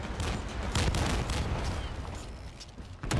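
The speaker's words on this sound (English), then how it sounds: "Keep shooting the rocket launchers." Rocket launcher fire in the video game The First Descendant, on Xbox Series X: a loud, continuous barrage of blasts and booming impacts that runs without pause for a few seconds, with no voices.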